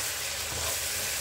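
Steady, dense sizzling of food frying in hot olive oil in a saucepan without water, a continuous crackling hiss with no voices.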